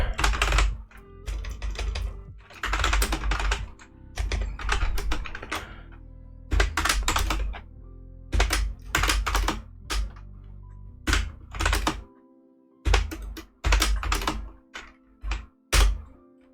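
Typing an nmap command on a computer keyboard in bursts of rapid, close keystrokes with short pauses between them and a few heavier key thunks, and no talk.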